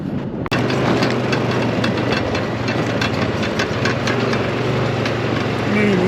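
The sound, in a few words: tractor engine running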